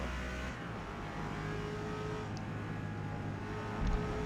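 Lexus RC F race car engine in Forza Motorsport, B class at Daytona, holding a steady loud drone of sustained revs through the lap with a slight surge near the end, no talk.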